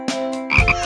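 Frog croaking at a race in Liliw, Laguna, where frogs and catfish compete; a few loud, close, rasping croaks with a steady low hum underneath, no voices.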